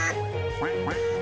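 A duck in the video game IDARB gives a couple of quick, nasal quacks over a steady electronic game tone.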